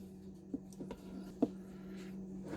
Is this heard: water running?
no